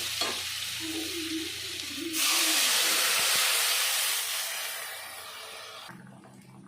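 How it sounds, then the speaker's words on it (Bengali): Water poured into a hot pan of frying potatoes for a village-style potato and eggplant curry, a sudden loud rush of hissing steam that slowly fades back to a quieter sizzle. "এবার দিয়ে দেবো পরিমাণ মতো জল"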